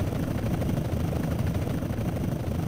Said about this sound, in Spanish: Derriba el helicóptero.